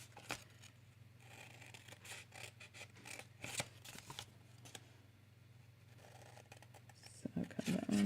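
Scissors snip through card stock while making a Christmas mug gift box craft, a series of crisp irregular cuts and paper rustles, close and fairly quiet, with a low hum underneath.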